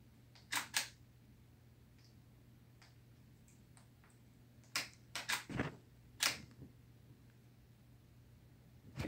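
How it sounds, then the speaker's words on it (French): A camera shutter fires during a product pack shot, a few crisp close clicks in small clusters against a quiet steady hum, with no talking. "on va refaire une photo un petit peu plus sous-exposée"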